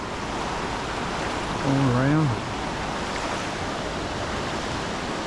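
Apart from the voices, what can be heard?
Eagle River flowing water, outdoors in Alaska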